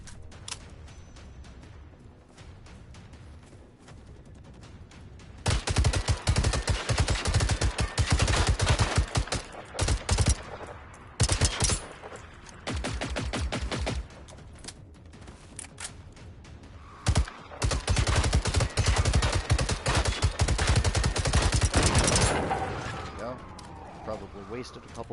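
Gunfire in the hardcore mode of the game Generation Zero, fought at level 1 against a machine tank: repeated loud bursts of rapid shots in several clusters, separated by quieter pauses.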